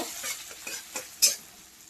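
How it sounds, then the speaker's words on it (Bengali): Onions frying in hot oil in a wok give a faint, brief sizzle with light scraping strokes and one sharper clink, heard close and without any talking. "এবার পেঁয়াজগুলো দিয়ে দিচ্ছি। পেঁয়াজটা সামান্য ভেজে নেব।"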